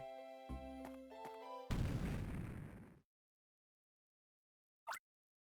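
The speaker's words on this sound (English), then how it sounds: "What was that? An explosion? That noise came from the basement." Explosion in the Pokémon Ranger Shadows of Almia game, a single burst of crackling noise that follows a tonal musical chime and then cuts off to silence, with a brief faint blip after.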